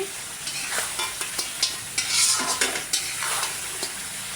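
Pieces of roast meat frying in a ground spice paste in a pan, giving a steady crackling sizzle with repeated scraping stirs at an even pace, close and moderately loud, with no talking.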